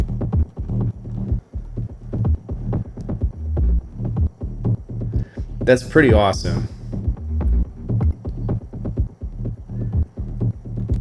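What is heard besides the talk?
rolling synth bass line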